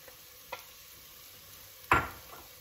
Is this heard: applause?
no